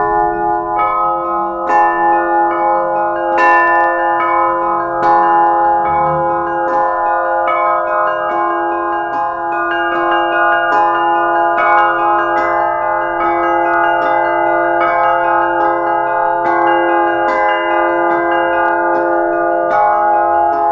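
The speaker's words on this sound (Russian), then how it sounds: "встраиваем звучание большого и подзвонных колоколов за звонные" Russian church bells ring together, a large bell sounding beneath smaller chiming bells in a dense, loud, continuous peal with rapid repeated strikes and long ringing overtones.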